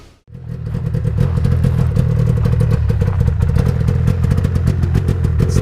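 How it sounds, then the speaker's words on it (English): A 1997 Yamaha VMAX 600 twin snowmobile engine runs loud and steady close by, a continuous throbbing idle with a rattly edge after a brief quiet start. "It's my 97 VMAX 600 twin. It's my son's sled. Just got it running."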